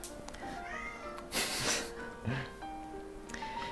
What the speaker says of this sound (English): It's hard to focus with a meowing cat.